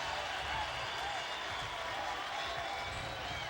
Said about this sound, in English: Just listen to this crowd for Cliff.